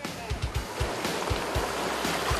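Sea waves surge and break over slippery coastal rocks on a remote island shore in South Jeolla, Korea, a steady close wash of surf with repeated low thumps of water striking stone.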